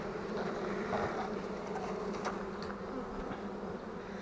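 Dense, steady buzzing of many honeybees around a hive just after a caught swarm has been merged into a bee colony, with returning foragers laden with honey and pollen; the drone is close and continuous throughout, with no talking.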